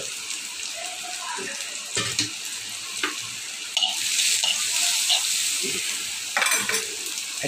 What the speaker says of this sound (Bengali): চুলায় দিয়ে দিলাম পেঁয়াজ কুচি